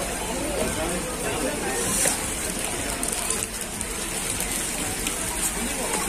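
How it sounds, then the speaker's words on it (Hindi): Heavy rain pours in a constant hiss, dense and close, with a voice speaking faintly beneath the downpour. "बारिश इतनी है।"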